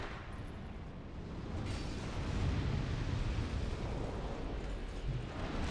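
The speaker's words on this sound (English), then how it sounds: "It leaves an explosion of lava on the ground that does a bunch of damage." Lava burst from the Dragonslayer Crescent Axe in the Dark Souls 2 DLC: a sustained, rumbling eruptive roar with crackling texture, loud and continuous, swelling slightly midway.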